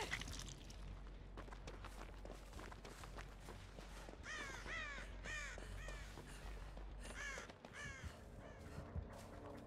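Crows caw repeatedly in the video game Dead by Daylight, a cluster of harsh calls in the middle of a steady low ambient drone with faint footsteps, and no voices over them.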